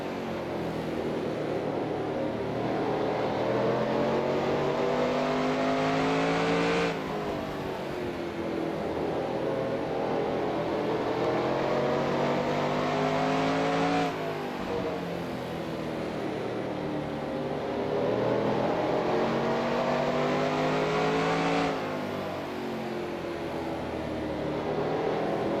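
Race car engines in the NASCAR Racing 2003 game, in a Busch Grand National race at Hickory, drone steadily at high revs, with the pitch dropping at each gear change in a repeating cycle and no talk.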